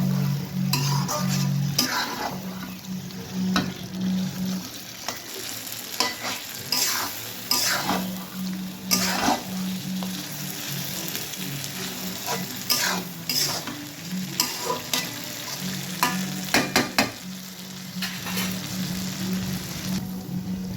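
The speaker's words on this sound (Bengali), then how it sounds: "আমি মশলার ভিতরে মাংসটা দিয়ে দিলাম।" Meat sizzles and fries in a spice masala while a spoon stirs it, with continuous crackling broken by frequent scraping and clinking against the pot, and a low steady hum underneath.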